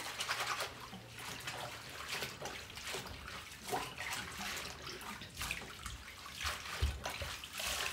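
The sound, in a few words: washing and scrubbing collard greens in salted water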